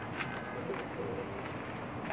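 Pigeon cooing on a rooftop loft, soft low coos repeating under steady background noise, fairly faint and continuous.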